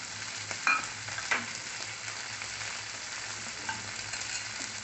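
Spicy water poured into pineapple gojju frying in a pan, giving a steady close sizzle with a few sharper splashy bursts near the start, no voices.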